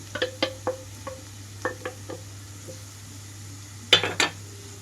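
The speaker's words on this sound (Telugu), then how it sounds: "ఇప్పుడు చివరిగా తురిమి పెట్టుకున్న గుడ్డు మొత్తం వేసేసుకుంటున్నాను" Grated boiled egg tipped into an egg keema curry in a pan gives a few light clinks and taps early on, then a brief sharper clatter of utensil against pan near the end, fairly quiet overall.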